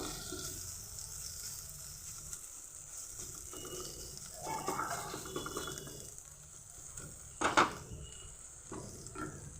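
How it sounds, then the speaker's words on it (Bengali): Mutton samosa filling with chopped coriander leaves is stirred in a hot pan on a gas stove, with soft sizzling under scraping strokes and a few louder clatters of the spoon against the pan. "এবার দিয়ে দেবো ধনে পাতা কুচি দিয়ে এটাকে ভালোভাবে নাড়াচাড়া করে"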